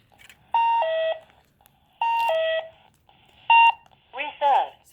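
An electronic incontinence chair pad monitor alarm sounds three repeated two-tone beeping bursts, each lasting about half a second, followed by brief chirps, loud and close with a quiet room between bursts.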